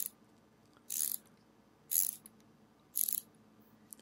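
A Wera Kraftform Kompakt 27 ratcheting screwdriver's ratchet mechanism clicks in three short, evenly spaced bursts of rapid crisp ticking about a second apart, close and alone.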